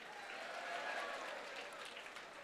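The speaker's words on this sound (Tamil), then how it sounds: "ஒரு பெரிய கைத்தட்டல் கொடுங்க." Steady applause from a crowd, a dense patter of clapping that holds at an even level for a couple of seconds, fairly distant.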